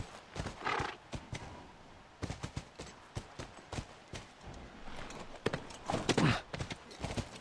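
Hooves clip-clop steadily from a horse in The Last of Us on PS3, a quick rhythmic run of near hoofbeats in bursts with brief pauses, and a whinny-like call near the end.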